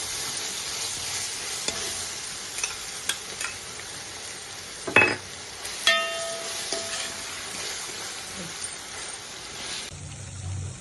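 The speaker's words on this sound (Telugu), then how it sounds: "ఇప్పుడు అల్లం వెల్లిపాయ పేస్ట్ అంతా ఫ్రై అయిపోయింది." Ginger garlic paste fries in a pot for chicken pulao with a steady soft sizzle, punctuated by scattered clinks and scrapes of a spoon stirring, one or two sharper knocks midway.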